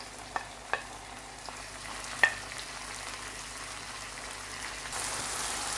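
Ingredients for chicken biryani cook gently in a pan, giving a faint steady sizzle broken by a few isolated clinks early on, followed by a slightly louder hiss near the end.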